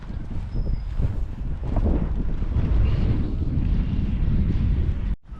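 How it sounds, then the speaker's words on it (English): Wind gusts around a Zpacks Solplex ultralight tent, a close, continuous blustery rush with microphone buffeting that cuts off abruptly near the end. "It's getting a little windy."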